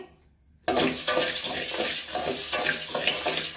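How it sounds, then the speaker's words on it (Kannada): Rice grains dry-fried in a pan while making mutton sambar powder: a steady, close scraping and rustling stir with soft sizzle, starting abruptly after a brief quiet moment and continuing evenly throughout. "ಅಕ್ಕಿ ಚೆನ್ನಾಗಿ ಫ್ರೈ ಮಾಡ್ಕೋಬೇಕಾಗುತ್ತೆ"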